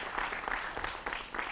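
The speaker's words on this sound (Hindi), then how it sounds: "जोरदार तालियों से उनका भी स्वागत।" Brief applause from a studio audience on a Hindi television news debate, a short burst of quick, moderately loud clapping.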